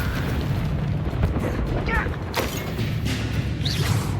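Confringo blasting spell going off in Hogwarts Legacy, a dense cluster of booming, crackling bursts over a rumbling battle bed with voices mixed in.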